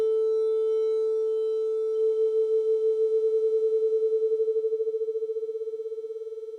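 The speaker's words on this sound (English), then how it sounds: "You hear this kind of like, they call it beating because it kind of sounds like a fluttering almost." Two steady, nearly identical pure tones start in unison and slowly drift apart in pitch, so their combined loudness begins to pulse in a fluttering beat that grows faster as the tones separate.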